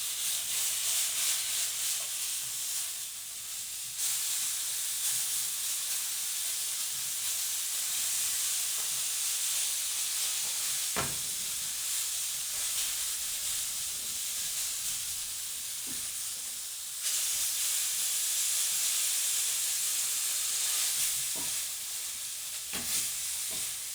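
Food sears in a hot pan with a loud, constant sizzle and hiss close by, punctuated by a few faint clicks and stirring sounds, with no voices.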